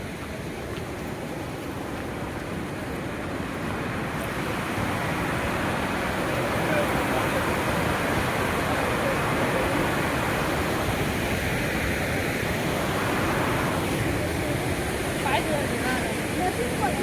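Heavy water rushes steadily at Madkhol dam, a dense continuous roar that fills the scene from start to finish, with faint voices of people talking nearby beneath it.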